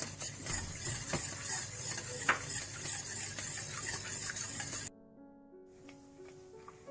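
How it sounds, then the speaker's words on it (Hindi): A spoon stirs cream sauce in a pan while making lasagna, giving a steady scraping, clinking texture with faint sizzling; the stirring runs loudly for about five seconds, then drops to a quiet background. "मुसलसल चम्मच चलाते रहें और इस तरह आपने क्रीम को गाढ़ा कर लेना है।"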